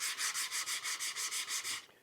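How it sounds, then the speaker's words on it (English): Sanding pad worked back and forth across wood end grain in a shop, about eleven even, close, scratchy strokes in a quick steady rhythm, ending abruptly into quiet. "for doing the sides, the ends, I mean, end grain, it's a little small for this. So I take my sanding pad"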